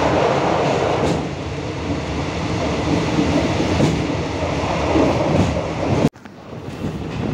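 A non-air-conditioned train in southern Thailand rumbles along at about 90 km/h with a steady rattling roar and faint rhythmic clatter, cutting off abruptly near the end to a quieter hum.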